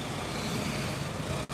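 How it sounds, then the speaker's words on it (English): Street traffic and motor-tricycles on a Manila street, a steady, loud broadband roar of engines and road noise that drops briefly near the end before resuming. "Sorry about the loud traffic and trikes and all sorts of crazy stuff out here."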